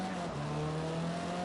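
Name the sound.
race car braking hard, PlayStation racing video game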